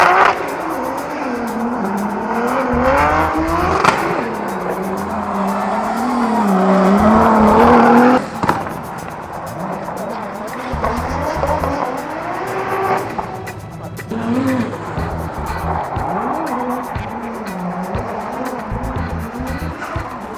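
Drift cars at a D1GP event produce loud engine revving with rising and falling pitch and tire squeal, heard from fairly near, with passes and skids that fade and return over about twenty seconds.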